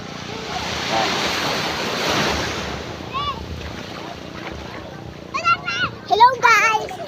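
Sea waves wash ashore at San Narciso, Zambales, a steady surf roar with wind buffeting the microphone, loudest early on, then fading under bursts of nearby talk, including a voice, toward the end.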